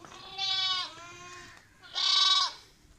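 Two loud, nasal bleats from Makhi Cheeni goats on a farm, close by and separated by a short pause, each about half a second long with a wavering pitch.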